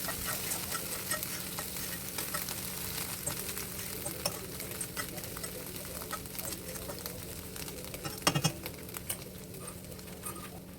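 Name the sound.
eggs being stirred in a pan over low flame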